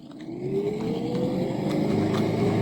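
Lamborghini car engine driving in the Brick Rigs video game, a steady revving whine that slowly climbs in pitch and holds loud and close for the whole stretch, with no talking.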